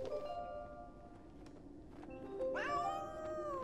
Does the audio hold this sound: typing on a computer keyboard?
no